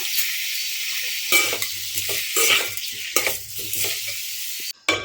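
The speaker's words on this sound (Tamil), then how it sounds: "பாருங்க, தக்காளி நல்லா வதங்கட்டுங்க." Tomatoes sautéing in a pan for tomato sambar: a close hissing sizzle broken by several bursts of spoon stirring and scraping against the pan, ending in a sharp clatter.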